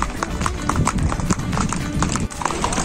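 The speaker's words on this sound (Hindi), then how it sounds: "देखो अभी चल रहे हैं हम घोड़े पे" Horse hooves clip-clop steadily on a paved road through the Pahalgam market during a ride, a quick regular rhythm of hard taps close by amid busy outdoor street noise.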